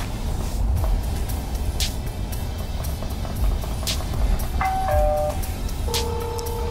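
A smart doorbell chime, from a doorbell camera comparison between a YouSee SD-M5 PoE and a Foscam DBW5, rings several times in quick succession over steady background noise, with short tonal bursts near the end.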